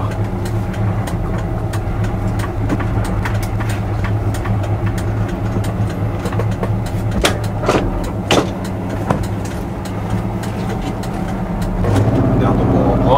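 A 1979 VW Type 2 with automatic transmission drives along, its steady engine drone and road rumble running continuously and loud throughout, with light clicks and bumps scattered over it and the engine swelling slightly near the end.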